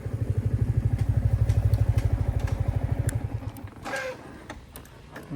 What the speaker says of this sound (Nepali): कसको बाइक होला